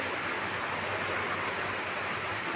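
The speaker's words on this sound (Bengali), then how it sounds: "এই দেখো কত জোরে জোরে বৃষ্টি হচ্ছে" Heavy rain pours steadily onto a rooftop in a continuous dense hiss with no let-up, loud and close, with no voices over it.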